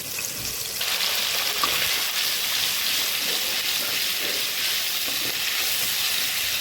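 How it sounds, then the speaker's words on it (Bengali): Garlic, cumin and ginger paste sautéing in hot oil for chicken biryani, a loud continuous close-up sizzle and hiss that holds steady throughout with faint scraping underneath. "এবার মশলাগুলো সব তেলে ভালো করে কষিয়ে নেব।"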